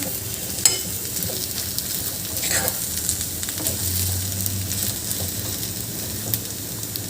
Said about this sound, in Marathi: यामध्ये आता आपल्याला कोथिंबीर घालून घ्यायची आहे आणि मिक्स करून घ्यायची आहे